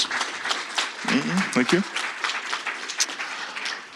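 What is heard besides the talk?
brief audience applause for speakers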